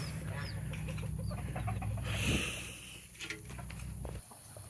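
A gamefowl rooster clucks and calls several times in a farmyard, with other birds chirping faintly and a low steady background hum.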